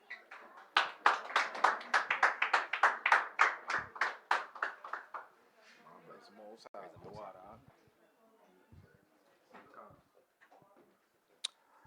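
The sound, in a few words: audience applause welcoming a speaker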